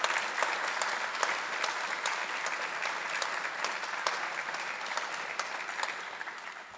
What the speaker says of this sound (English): Let's all give a round of applause to our recently promoted technicians.